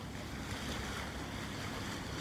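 Waves of the Barents Sea wash and rush continuously around a boat at sea, a dense, steady roar mixed with wind buffeting, with no voices.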